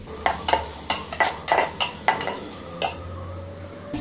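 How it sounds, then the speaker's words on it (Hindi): Chopped tomatoes go into ginger-garlic paste in a frying pan for beef kofta curry, giving a series of sharp stirring scrapes and clinks at a steady pace over a soft sizzle, close and fairly loud, with no talk. "अब इसके बाद हम टमाटर जो चॉप किए हुए हैं वो डालने लगे हैं, वो डाल दिए अब इसके अंदर।"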